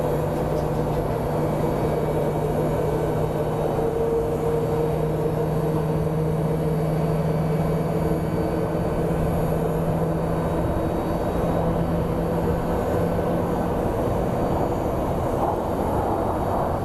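Southwest flight 2637, arriving from Portland at Phoenix Sky Harbor International Airport, gives a faint, distant, sustained engine drone with a low steady hum and no talk.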